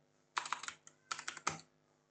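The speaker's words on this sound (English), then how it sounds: "So when you type iShare dash dash help" Rapid keystrokes on a computer keyboard as a command is typed, two short bursts of close, crisp clicks separated by a brief pause, with no talking.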